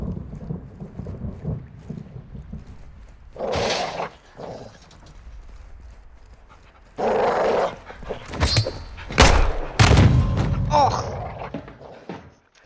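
Dog in the video game Call of Duty MW2 campaign, a few loud barks and thumps in the later half over a rumbling, stormy game background, with some talk mixed in.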